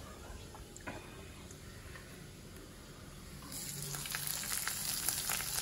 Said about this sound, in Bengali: এর মধ্যে আমি রসুনের কুচিগুলো দিয়ে নিয়েছি, হালকা করে এটাকে আমি ভেজে নেব প্রথমে